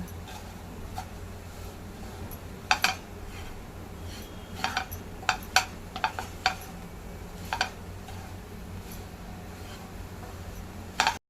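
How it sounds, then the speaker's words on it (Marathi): A spoon scrapes and taps against a pan as grated coconut is stirred and roasted. The clinks come in sparse, irregular bursts over a low background hiss. "हे बघा कसं मस्त भाजलं जात आहे खोबरं चांगलं परतून घ्या"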